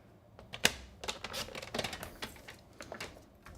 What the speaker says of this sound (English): bring in my paper trimmer again